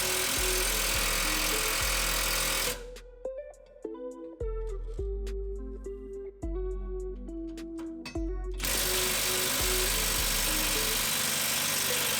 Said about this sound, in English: I got the bottom out with the impact